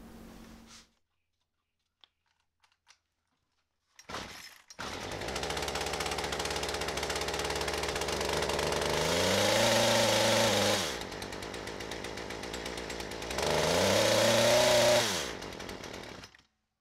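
A chainsaw runs after its clutch replacement: a few faint knocks, then the engine catches and idles loudly, revving up twice to a higher whine before settling.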